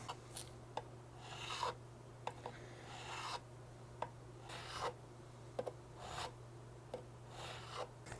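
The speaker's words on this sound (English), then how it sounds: "I am going to use this file to get my initial crown" A file scrapes back and forth across guitar frets while crowning them, in faint, quiet strokes of steady rhythm with light clicks over a low background hum.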